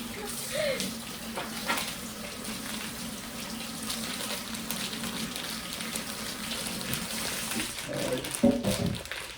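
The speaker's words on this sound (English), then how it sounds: "First thing, I'm gonna wash my hands." Tap water runs steadily into a home kitchen sink during handwashing, a continuous moderate hiss and splash, with a faint voice briefly audible beneath it.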